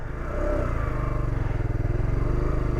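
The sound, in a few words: motorcycle pulling away uphill on dirt with throttle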